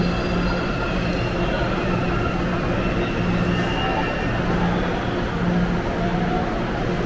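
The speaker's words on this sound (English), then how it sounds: "now you're about to find out what the metro actually looks like" Inside a São Paulo metro train running underground: a loud, steady rumble and roar of wheels and carriage that holds for the whole stretch, with a faint high whine above it and no clear talk.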